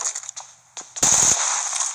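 An M16 rifle fires bursts in PUBG, a few quick faint shots followed by a loud, sharp rattle of rapid close gunfire with a bright ringing tail.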